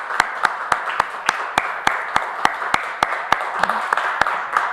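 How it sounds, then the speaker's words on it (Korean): A church congregation claps during a flower bouquet presentation at a Sunday service, with sharp, evenly spaced rhythmic claps over a steady wash of crowd noise. "화면으로 보시는 우리 성도님들께서도 크게 박수해 주시면 감사하겠습니다."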